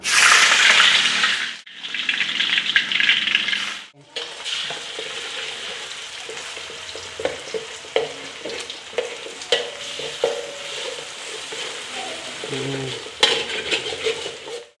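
Loud, steady sizzling of chicken frying in a pan, with occasional scraping and stirring clatter throughout.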